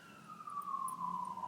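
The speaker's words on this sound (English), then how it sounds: "More sirens, more sirens," An emergency siren wails faintly in the distance, its tone sliding slowly downward in a single long sweep with no one speaking.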